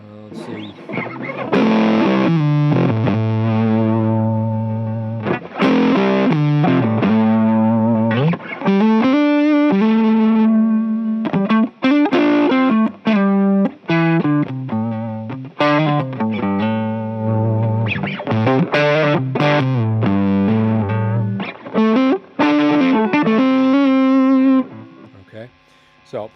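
Electric guitar run through a mild fuzz, warm and slightly gritty, playing sustained chords and short riffs with brief gaps, close and loud.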